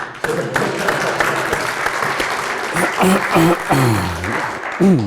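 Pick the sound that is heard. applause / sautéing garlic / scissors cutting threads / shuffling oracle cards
applause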